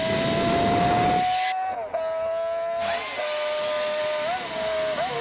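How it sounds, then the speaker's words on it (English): A motor-driven buffing wheel hums at a steady high pitch while buffing paste is worked onto it and the polished exhaust of a Honda CBX1000 six-into-one system, the whine dipping briefly as pressure is applied. "Buffing paste is applied to the wheel."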